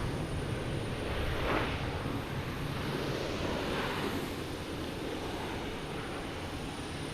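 A jet airliner at Boston Logan Airport makes a steady, fairly loud broadband roar that holds at a constant level for several seconds without a break.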